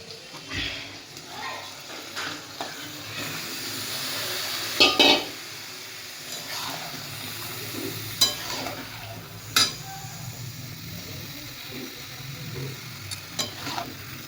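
Taro leaves hit hot oil fried with onion and garlic, giving a continuous sizzle with stirring scrapes and a few utensil clanks against the pan, with brief faint talk in the background.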